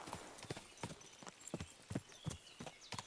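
Horse hooves clip-clop at a steady trotting pace along a woodland path in the video game Kingdom Come Deliverance 2, each hoof strike crisp and close with no voices over it.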